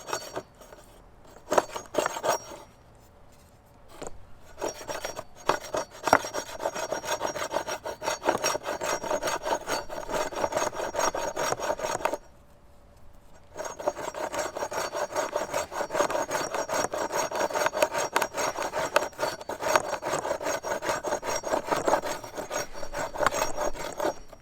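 A large scalloped knife blade, a Work Tuff Gear Night Hunter, shaves fuzz sticks from wood for fire kindling in steady, close scraping strokes. The rasping runs almost continuously, with one brief pause near the middle.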